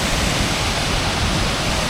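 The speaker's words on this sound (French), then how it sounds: "Double cascade." A double waterfall in Iceland roars as a constant, loud, broadband rush of falling water with no pauses or voices.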